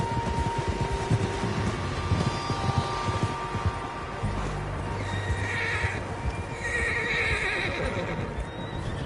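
Horses neigh and whinny in a Red Dead Redemption 2 wilderness scene near a lake, several animals calling at moderate distance over steady hoof clip-clop and low ambient rumble, with no talking.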